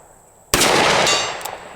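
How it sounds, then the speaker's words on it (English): A steel gong struck by a bullet at 100 yards from a snub-nose Smith & Wesson Model 60 revolver gives one sharp, bright metallic clang that rings on and slowly fades, with no talk over it. "Hit a gong out at 100 yards with it, with a little snub nose."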